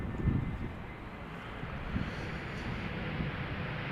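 Distant airliner arriving on a runway at Amsterdam Schiphol Airport, a broad, steady engine rumble blended with wind buffeting the microphone, moderately loud and continuous.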